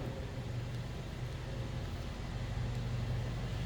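A 2015 Mercedes-Benz C300 idles quietly, heard from behind the car: a low, steady engine rumble, a faint continuous drone with a soft hiss and no change in pace.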